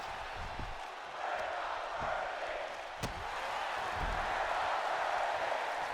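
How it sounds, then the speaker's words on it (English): Steady wrestling-arena crowd noise from a WWE-style video game match, a continuous roar with a few sharp slam-like impacts, the chant blurred into the broad din. "This crowd chanting, "We're not worthy.""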